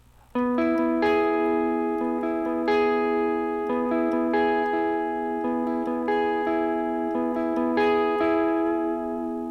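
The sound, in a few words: electric guitar picking barred strings with reverb and delay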